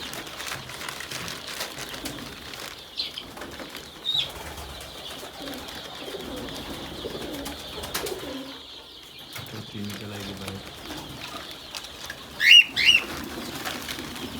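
A pet parrot flaps its wings in a poultry-keeping setting among chickens, the flutter coming in short bursts near the end over steady background chatter of birds and voices, with people talking faintly.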